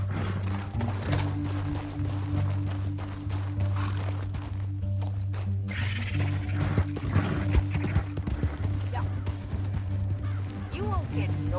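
Horse hooves clip-clopping in Red Dead Redemption 2, rhythmic mid-distance hoofbeats beneath a steady low hum, with mechanical clanks and occasional talk.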